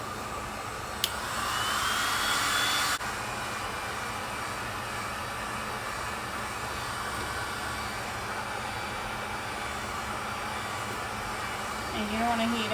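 Heat gun warming vinyl wrap over a car emblem, a steady close-up blowing whoosh that swells louder briefly near the start, then settles into a constant airy hum.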